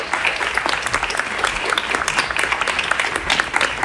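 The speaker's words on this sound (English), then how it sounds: "Give them a round of applause." Steady, dense applause fills a conference hall during a business event on social impact, a large audience clapping continuously and loudly for about four seconds with no voices over it.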